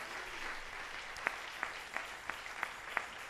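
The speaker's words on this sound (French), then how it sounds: "Je vous demande d'acclamer pour vous-même" A church congregation applauds, a dense wash of clapping that holds steady for a few seconds, with several sharper individual claps standing out near the middle and end.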